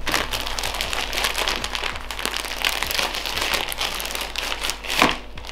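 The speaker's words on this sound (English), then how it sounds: "We're using scissors today." Dry crinkly snipping and rustling textures repeat steadily up close as scissors cut through thin wonton pastry sheets, with a slightly louder crunch near the end.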